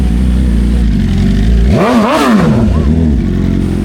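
Motorcycles at the Negros Loop 2024 riders' event in Bacolod City give one loud, close rev that swells and falls around the middle, with a shorter blip after and steady engine rumble throughout.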